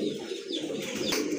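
Pigeons kept for sale coo close by, a soft, throaty, rolling murmur that continues with no talking.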